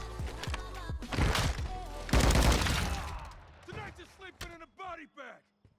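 Machine gun fire in Call of Duty MW2 rattles in rapid, loud bursts over the first few seconds, followed by thuds and game effects while someone talks through much of it.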